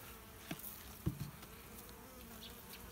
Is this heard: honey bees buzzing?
yes